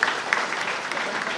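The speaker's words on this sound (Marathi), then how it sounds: "सगळे टाळ्या मारत नाही" An outdoor crowd at a political speech about a fishermen's welfare scheme claps steadily, a dense, even patter of many hands at moderate distance with a few sharper nearby claps.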